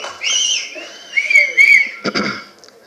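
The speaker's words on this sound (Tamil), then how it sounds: "இவ்வளோ பேருக்கு கை தட்டி விசில் அடித்து கொண்டாடுறீங்க" A crowd at a Tamil film audio and trailer launch event whistles loudly, several shrill rising whistles overlapping, then a short burst of clapping near the end.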